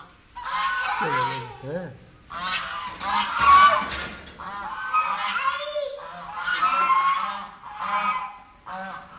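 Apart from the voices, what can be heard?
ducks or geese honking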